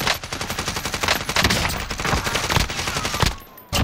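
A video game shootout with rapid automatic gunfire close by, a dense continuous rattle of shots that cuts off abruptly near the end and resumes after a brief silence, with no voices.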